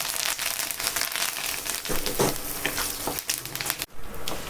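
Tempering spices, dried red chillies and chana dal crackle in oil over a medium flame, a near, uneven sizzle with popping bursts and stirring, briefly dipping near the end, no speech.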